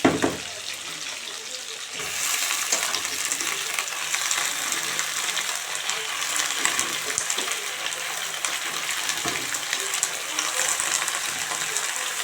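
Malabar spinach frying in a pan with potato and pumpkin: a softer hiss jumps to a louder, dense crackling sizzle after the first two seconds and holds steady, with faint background sounds.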